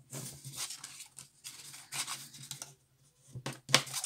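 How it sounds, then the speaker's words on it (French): A bone folder creases paper squares for a candle-warmer box, giving close, quiet scraping strokes in short repeated bursts separated by brief pauses, with no talking. "je vais prendre mon plioir. Vous pliez tout ce qu'il y a à plier,"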